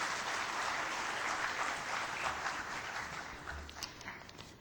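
A conference audience applauds the event sponsors, a sustained crisp patter of many people clapping at moderate volume that tapers slightly toward the end.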